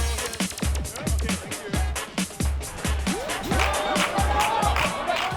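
Crowd murmur and cheering at a local league football match between two Madrid clubs, Torrejon and Las Rozas, with a steady thumping beat of music underneath and a continuous busy hum of people throughout.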